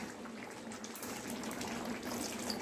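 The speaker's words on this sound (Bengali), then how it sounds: "একটু জল দিয়ে দেবো, কারণ এবার চিকেনটা তো রান্না হবে।" Water being poured into a pan of Kerala-style chicken curry makes a steady, fairly faint rushing splash that runs continuously throughout.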